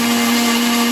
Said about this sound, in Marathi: ह्याला आपण मिक्सरमध्ये फिरूया